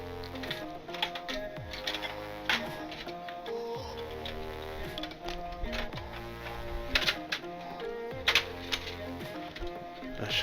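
An Xbox console panel snaps back into place during reassembly, giving a series of sharp, irregular clicks over quiet background music.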